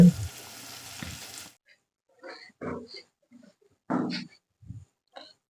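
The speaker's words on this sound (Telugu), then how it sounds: "తాలింపులో వేసుకొని మంచిగా నూనెలో గోలించేయాలండి" Sliced green chillies sizzle in hot oil for a moment, then the hiss stops and a few scattered clinks and stirring sounds follow.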